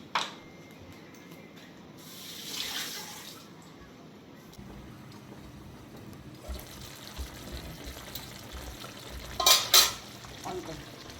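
Vegetable side dish frying in a pan with oil, soft sizzling and occasional scraping stirs, quiet overall with a couple of sharper utensil clinks near the end.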